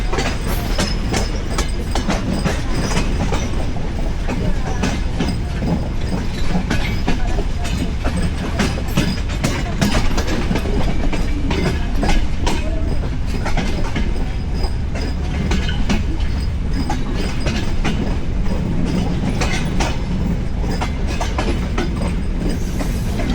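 Ekota Express train rolling into Ullapara station in Bangladesh, a steady loud rumble of wheels and carriages with clickety-clack rhythm and occasional faint wheel squeal throughout.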